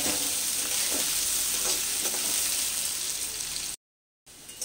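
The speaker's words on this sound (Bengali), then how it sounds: "ওই তেলের মধ্যে এই আলুগুলোকে আমি ভেজে নেব।" Cut potatoes frying in oil in a wok, a continuous close hiss and crackle with a few soft stirring scrapes, cutting off abruptly near the end before resuming faintly.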